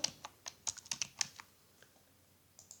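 Someone types on a computer keyboard while filling in an online company form: a quick burst of crisp, close keystrokes, then a few sparse taps trailing off into quiet.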